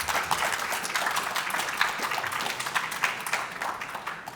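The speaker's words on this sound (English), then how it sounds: "Can I get a big round of applause for the people that are creating this education system" A lecture-hall audience at an art-in-education event at TU Delft claps for the people building an education system, steady, moderately loud applause from many hands that carries on throughout.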